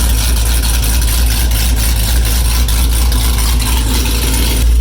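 A 427ci engine runs steadily on a dyno, a loud continuous low rumble with broadband roar that holds at a near-constant level throughout, no talk over it.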